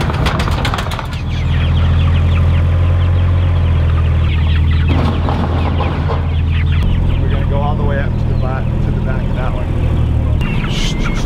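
Loud, close rooster clucks and squawks repeat over a steady low engine-like rumble, with voices talking in between, in a tent housing 600 pasture-raised chickens.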